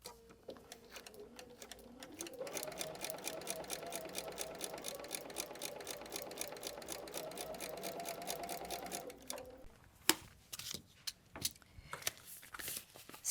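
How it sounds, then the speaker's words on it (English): Sewing machine stitching foundation paper piecing: a slow start builds to a steady, fast mechanical whir and rattle that runs for several seconds, then stops and is followed by a few faint handling clicks. "let's start sewing a little bit prior, and then we're going to sew all the way off"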